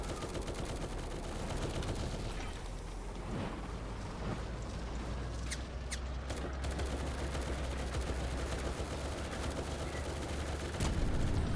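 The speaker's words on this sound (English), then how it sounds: "We'll do it only with machine guns though, let's do a little challenge" Tank machine gun fire in the video game War Tycoon rattles out in dense, rapid bursts, a continuous busy barrage of shots layered over battle noise for the whole stretch.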